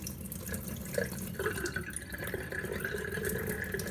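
Water runs and splashes while a sprouting jar of broccoli seeds is rinsed, a soft, close trickle and patter with a few drips.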